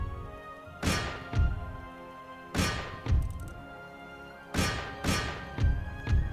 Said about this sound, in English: Just a huge bloody melee fight in the center.